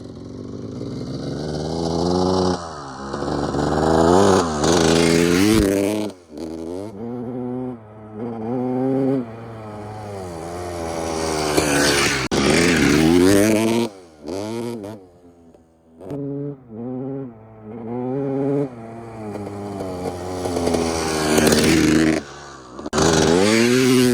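A 2001 Suzuki RM250 two-stroke dirt bike running on its first ride after restoration, its engine revving hard and rising and falling in pitch through repeated accelerations, loud and close with a raspy, buzzing tone.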